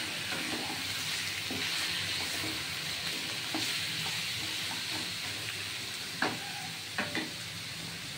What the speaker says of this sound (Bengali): এবার মাংস আস্তে আস্তে কড়াইয়ে ভাজা হবে।